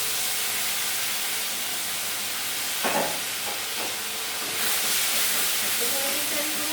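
A spice paste with cashews, raisins and melon seeds hits hot oil for Katla fish white rezala, giving a steady, loud broadband hiss and sizzle that flares briefly midway and continues to the end.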